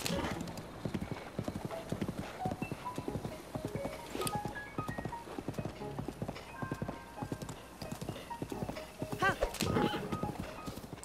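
A horse trots and gallops with constant quick hoof clops and an occasional whinny, ridden across open terrain in a fantasy adventure video game, with game music tones and some talk layered over it.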